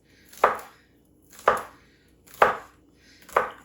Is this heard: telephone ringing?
no